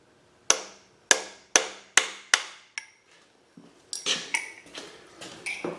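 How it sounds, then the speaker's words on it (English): A hammer strikes a flat punch in a run of evenly spaced, ringing metal taps while seating rod bearings in a small-block Chevy V8, then several duller, quicker hits follow; loud and close with no talking. "you can get under it with a hammer and a flat punch, and just tap on it."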